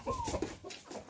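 A rooster and young chickens make short, faint clucks and peeps close by, in one brief burst.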